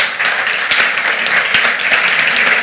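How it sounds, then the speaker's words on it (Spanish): An audience at a live podcast recording during a football festival breaks into loud, dense applause, a continuous close roar of many hands clapping with no letup. "¡Un aplauso fuerte!"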